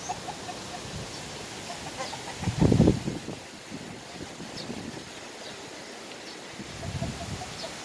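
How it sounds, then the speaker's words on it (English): A rooster crows faintly in the distance at a resort in La Libertad, Negros Oriental, against a steady outdoor background, with a short louder rustle partway through. "Hey, rooster."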